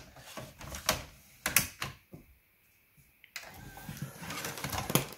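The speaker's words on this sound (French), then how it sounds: "on va mettre le CD dans le tiroir." The motorized disc tray of a Pioneer PD-M610 CD player loads a disc: a short whirring slide with mechanical clicks and clunks, close up and set between louder handling knocks.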